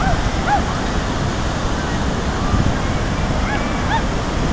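Ocean waves wash onto a shore in a steady, roaring rush, with a few faint bird calls drifting over the broad surf noise.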